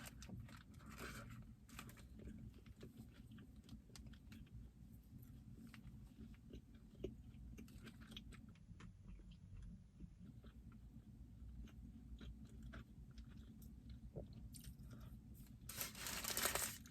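Quiet close-up eating of a McDonald's bacon, egg and cheese biscuit, with soft chewing, biting and occasional paper crinkles over a low background hum, growing louder near the end.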